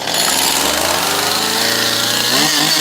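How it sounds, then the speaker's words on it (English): A chainsaw cutting wood, roaring loud and close with a steady high engine whine that holds throughout, dipping slightly near the end, no voices. "In case you didn't know, this is a chainsaw."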